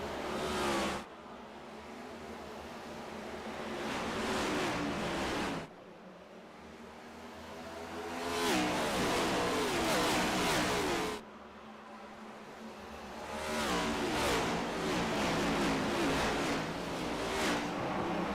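Sim racing cars from a NextGen Series event at Bristol Motor Speedway roar through a green-flag start, engines swelling and revving in three long surges with a steady, loud, dense drone and no talk.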